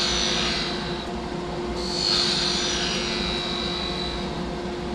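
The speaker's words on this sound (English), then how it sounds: "Planing cut to clean up the handle." Skew chisel taking a planing cut along a spinning-top handle on a wood lathe: a steady whirring hum with a hissing shaving sound that swells and eases, close and without talk.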